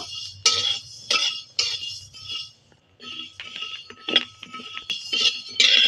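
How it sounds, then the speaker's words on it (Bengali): A utensil stirs rice frying in a hot wok, producing a string of separate clinks, scrapes and rattles at close range, spaced out with brief quiet gaps in between. "কড়াতে আমি চালটা একটু ভেজে নেব। চালটা নেড়ে চেড়ে ভেজে নেব।"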